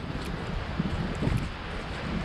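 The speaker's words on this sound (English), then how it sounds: "Really windy through this pine forest section" Wind blowing through a pine forest beside a narrow section of the Bruce Trail's Sydenham Section, a steady, fairly faint broadband rush with soft rustling and gentle gusts throughout, no voices.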